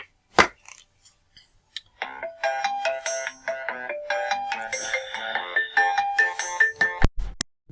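A melodic phone ringtone signals an incoming call, playing a bright repeating tune for several seconds after a sharp click. It is loud and close, with a clatter near the end.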